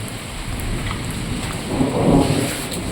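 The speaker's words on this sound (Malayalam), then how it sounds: "നല്ല ഇടിയും വെട്ടുന്നുണ്ട്." Heavy rain pours down steadily during a thunderstorm with low rumbling thunder swelling near the end, a dense continuous wash with no voices.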